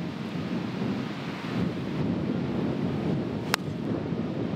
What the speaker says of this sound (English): Wind off the right.